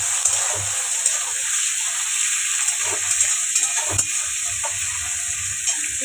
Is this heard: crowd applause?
no